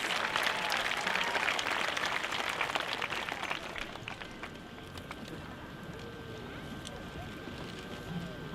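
Sustained applause from a large audience at a high school class of 2026 graduation ceremony, a dense wash of clapping that is loudest at first and thins slightly toward the end, heard without speech.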